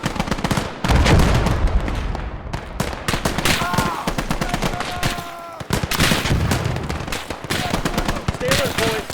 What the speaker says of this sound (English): We're getting good suppressing fire on the MGs in the buildings up there as well.